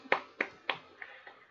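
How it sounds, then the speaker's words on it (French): A single person gives a few slow, sparse hand claps, about six sharp close-up claps growing softer toward the end, in a quiet room. "Une main d'applaudissement pour Arcade."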